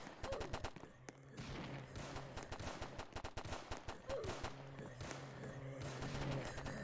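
Rapid bursts of gunfire from guns in the Roblox game Infected Games, quick repeated shots in clusters over a low steady hum, fairly quiet, with faint voices mixed in.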